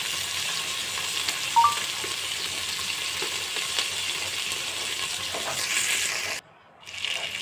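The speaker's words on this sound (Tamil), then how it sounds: "நல்லா கட் பண்ணிவிட்டு நல்லா போட்டு வதக்கி விடுங்க நல்லா வதங்கட்டும்" Chopped onions sautéing in a pan for sambar rice, a steady broadband sizzle and fry that holds evenly throughout, with a brief stir clink early and a short dropout near the end.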